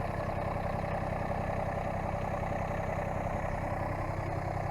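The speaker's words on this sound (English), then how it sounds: "with the tractor vibration, it always rattles" A tractor engine runs steadily at idle-like speed, a continuous low throbbing drone with a faint rattle from a camera mounted on the tractor shaking with the vibration.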